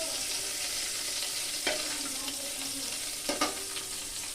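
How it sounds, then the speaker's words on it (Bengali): Potatoes frying in hot oil after eggs were fried in it, giving a continuous close sizzle broken by a couple of sharp scraping stirs. "আলুগুলোকে আর একটু ভেজে নিব।"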